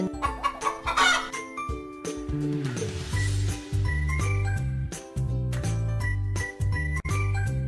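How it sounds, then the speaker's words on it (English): A chicken clucks in a children's animal learning puzzle, a few short clucks set against light, tinkling background music. "Chicken."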